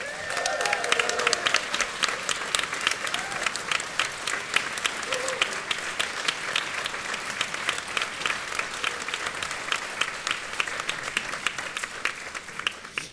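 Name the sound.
audience applause for a performer at a music night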